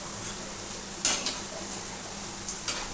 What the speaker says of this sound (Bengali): একটু গ্যাস কমিয়ে কমিয়ে এটাকে ভাজতে হবে